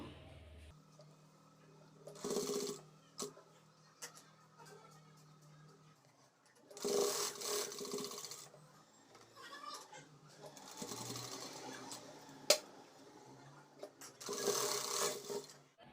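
A sewing machine stitching a double-folded blouse hem comes in several short whirring runs of a few seconds each, separated by pauses with fabric handling and a voice talking in between.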